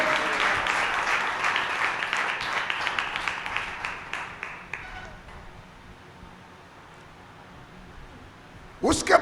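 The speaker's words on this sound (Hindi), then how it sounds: "जोरदार ताली बजाकर हम परमेश्वर को धन्यवाद करें" A church congregation claps loudly in thanks, dense applause that thins out and fades away over several seconds before a brief louder noise at the close.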